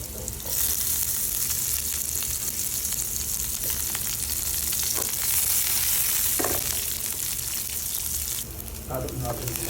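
Garlic sautéing in a pan for a home-style chicken curry, a steady, even hiss of frying that fills the whole stretch, with brief clatters of a utensil near the end and no talk over it.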